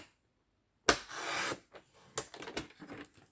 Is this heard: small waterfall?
no